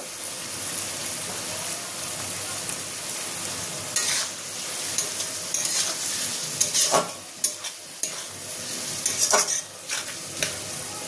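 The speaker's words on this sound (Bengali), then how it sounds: "এটা আমি মশলাটা ভালো করে মিশিয়ে নেব।" Spices for Schezwan fried rice, with vinegar and ground black pepper just added, get stirred in a hot pan, a steady sizzle under repeated scraping strokes of the spoon and sharper clacks near the end, close and fairly loud, with no voices.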